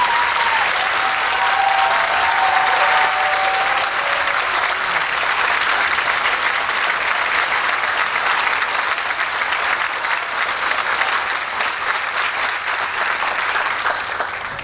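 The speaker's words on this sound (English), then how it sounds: "they deserve an enormous round of applause" A concert audience at a high school 10th grade concert gives the standing seniors a big round of applause, dense steady clapping that fills the hall for the whole stretch without letting up.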